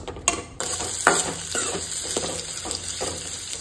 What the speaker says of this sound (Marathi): जशें तेल तापले उपरांत रोखडेंच हितून कांदो घालता.